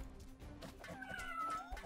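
A cat in the Strikeforce Kitty video game meows faintly over busy game sounds and background music, a thin drawn-out cry rising through the middle.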